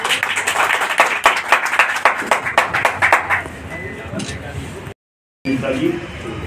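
An audience at a Human Rights Day event at an international human rights commission office in Manpur claps in a quick, rhythmic burst that fades after a few seconds. Speech is heard alongside the clapping.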